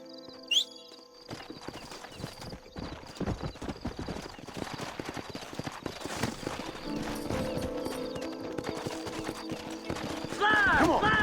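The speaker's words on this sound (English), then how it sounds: "Horses are over here!" Horses' hooves clip-clop in a Red Dead Redemption western game scene, a steady rhythmic trotting that builds under game music and ambience, with a brief whinny near the start and a speaking voice over the hooves.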